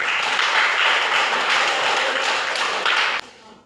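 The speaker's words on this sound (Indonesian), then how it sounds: "Kita tepuk tangan." Students in a classroom applaud together, a loud, close, even patter of many hands that runs for about three seconds and then drops off sharply.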